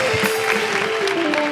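Studio audience applause on a Pakistani comedy talk show, a dense, steady wash of clapping filling the whole moment, loud and close, with a faint held tone running beneath it.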